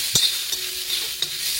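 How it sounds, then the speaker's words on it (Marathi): Chopped onion sautés in a little oil on a pan, a brief burst of sizzling broken by two or three sharp scrapes of stirring, close and fairly loud. "आता त्याच्यात घातलंय थोडासा तेल आणि पुन्हा तो कांदो परतून घेतलाय"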